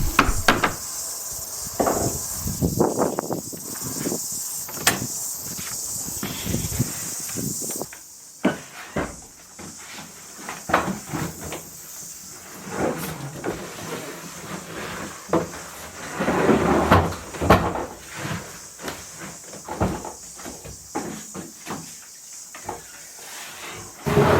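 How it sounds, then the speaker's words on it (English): A wooden shed door is taken off its frame, giving a series of irregular knocks, scrapes, creaks and clunks that come near and fairly loud with quieter pauses between them. "So of course the first job here is we've got to take the door off."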